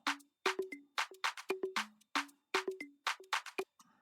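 A looped pattern of dry, hollow wooden knocks and clicks in a steady rhythmic groove, repeating twice, close and clear with no other sounds.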